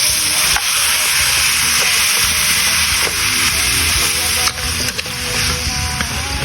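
Sautéed onions with garlic and crushed black pepper stirred in a hot pan, a loud, close, continuous sizzle with scraping spoon strokes throughout, no speech.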